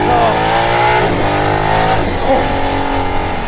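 An Aston Martin Valkyrie engine revs hard on a racing circuit, a loud, close, continuous high-pitched roar whose pitch climbs and dips as the car accelerates, with no talk over it.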